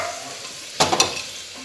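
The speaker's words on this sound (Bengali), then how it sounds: "মোটামুটি এটা কষা হয়ে গেছে" A curry of pointed gourd sautéed and stirred in a pan, with two quick scraping stirs over a steady background hiss.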